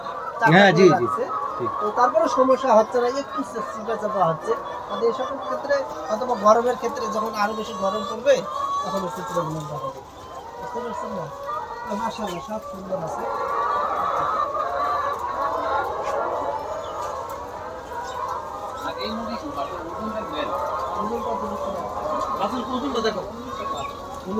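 Layer hens cluck busily in a poultry shed, a dense, close flock chorus with occasional louder squawks, running steadily while people talk over it throughout.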